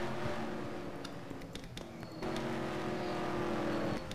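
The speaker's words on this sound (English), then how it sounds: "Here they go. Here comes the rest of the cars." Race cars lap an oval track at Kansas, their engines droning and whining as they pass in a steady stream, the pitch and loudness swelling as a pack goes by, with no voices over them.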